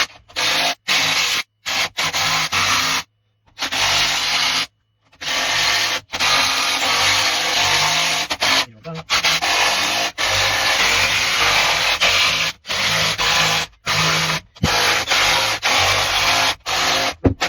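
Battery system wiring connections being tightened off-grid, with repeated short bursts of a tool whirring close up, broken by brief pauses, no talk.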